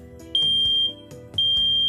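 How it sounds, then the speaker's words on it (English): A newly installed household smoke alarm being tested, giving two loud, shrill, piercing beeps about one second apart, close up, over faint background noise. "Remember to test your smoke alarm regularly."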